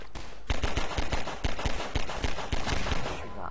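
Rapid automatic gunfire from a weapon in Half-Life 2, loud bursts of close shots in a quick irregular rhythm that runs the whole way through, with no talking.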